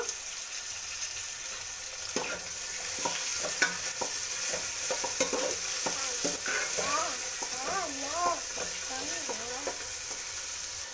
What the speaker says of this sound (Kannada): ಟೊಮೆಟೊ ಸ್ವಲ್ಪ ಬೇಯಬೇಕು